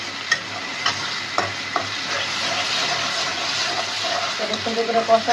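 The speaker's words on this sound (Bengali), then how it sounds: "এই যে মশলাটা সুন্দর করে কষানো হয়ে গেছে" Chicken in a browned spice paste sizzles and is stirred in a pan for a white milk-style chicken bhuna, with a steady fry hiss broken by several sharp spatula scrapes and knocks against the metal.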